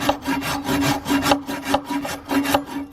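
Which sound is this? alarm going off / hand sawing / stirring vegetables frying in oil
hand sawing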